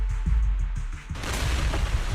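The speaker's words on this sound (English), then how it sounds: "several explosions erupt, followed by tremors in the ground" Several explosions go off in the video game Zenless Zone Zero, a series of close rapid low booms followed by a broader rumbling blast, with no speech.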